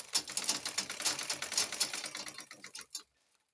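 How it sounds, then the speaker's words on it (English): A sewing machine stitches the shoulders of an abaya together, a fast rattling run of needle strokes for about three seconds that slows and stops, close and alone. "stitching the shoulder to shoulder"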